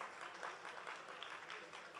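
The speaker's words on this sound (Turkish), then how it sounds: "Bu, bu budur alkışa bak" A live cosplay contest crowd at a League of Legends winter final claps steadily, a dense continuous wash of applause throughout.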